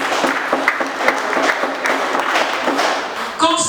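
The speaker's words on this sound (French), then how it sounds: "Applaudissez pour cette initiative" A seated audience breaks into steady, dense applause at a formal event honouring an Ivorian political figure, a continuous wash of many hands clapping at moderate loudness that briefly dips near the end.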